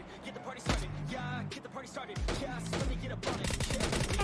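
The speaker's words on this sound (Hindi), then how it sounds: "मुझे वेयरहाउस के सामने से फायरिंग का साउंड आता है" Rapid bursts of automatic gunfire crackle in PUBG Mobile Lite, several volleys with the game's background sound and a voice talking over them.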